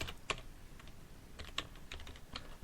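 Computer keyboard typing, soft scattered keystrokes in irregular bursts, close but quiet over a faint background hiss.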